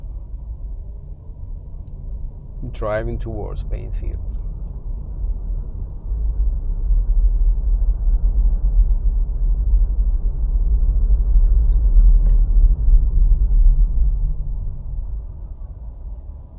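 Car driving on a road near Marysville, Washington, a steady low engine and tire rumble from inside the cabin that swells slightly over time, with a short whistling or squeaking sound early on.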